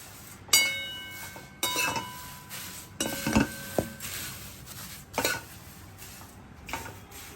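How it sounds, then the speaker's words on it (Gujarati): Flattened rice roasting dry in a pan as a metal spoon stirs it, giving several separate ringing clinks and scrapes with quiet gaps between strokes. "અને હવે આ પૌવાને તમે હલાવો."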